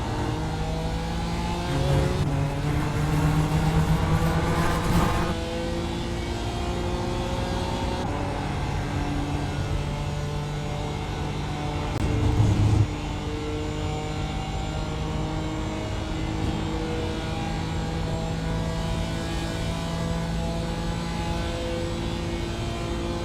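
A race car at Watkins Glen in iRacing drones loudly with a sustained engine note that climbs through the gears under hard throttle, with a brief louder rasp partway through.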